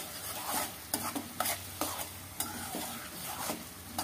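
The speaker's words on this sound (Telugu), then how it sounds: "ఈ ఉల్లిపాయలు బాగా వేగనివ్వాలి." Onions fry in a pan with a soft steady sizzle while a spoon stirs them, producing repeated scraping strokes at an uneven rhythm, close and fairly quiet, with no voices.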